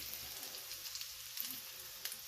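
Homemade meatballs brown in a pan with a steady, soft hiss and light crackle, close by and fairly faint, with no talking.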